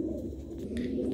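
Golden and Sialkoti pigeons, males of a breeder pair, give a low soft coo close by, a brief throaty murmur with faint background noise.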